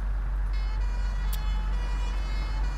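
Fire engine siren wailing in the bus simulator game OMSI 2 on a London route, a steady tonal wail held over continuous engine rumble for under three seconds.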